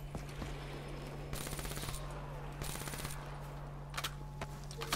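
Gunfire in Black Ops 3 Zombies on a large map, with several short bursts of rapid automatic shots over a steady low hum, and a few scattered single pops near the end.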